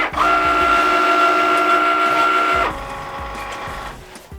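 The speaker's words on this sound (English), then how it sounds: "the machine pulled the mat all the way back" A Cricut Maker cutting machine pulls its mat back with a loud, steady motor whine that stops partway through, leaving a quieter mechanical hum and faint clicks.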